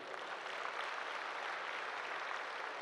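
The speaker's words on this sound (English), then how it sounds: "Please give them a big hand." A large audience at a knowledge session claps in a dense, even wash of applause, steady and full for a few seconds with no voices over it.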